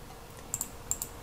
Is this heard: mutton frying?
no